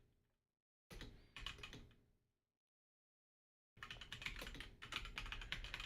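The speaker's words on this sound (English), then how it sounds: "Chat, let me know while I'm typing this out" Someone typing on a computer keyboard at close range: a short burst of clicking keystrokes, a pause of near silence, then a longer, faster run of rapid key taps.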